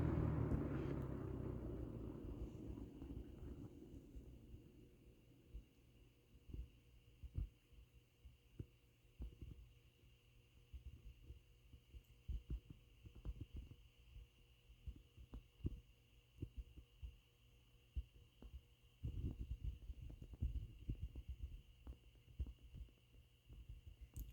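A 20-inch GWS General-Aire box fan winds down from its high setting, a low hum and throb fading over several seconds into faint irregular ticks and rattles with no talking.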